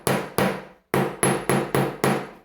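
A steel hammer drives a hollow punch of 1.32 diameter straight down onto metal in a craft workshop, giving six sharp, ringing strikes in an uneven rhythm, close and loud with no talking.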